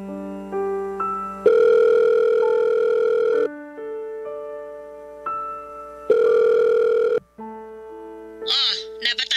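Phone ringing tone from a mobile call, long steady electronic beeps in varying pitches with gaps between them, loud and close, ending in a warbling chirp.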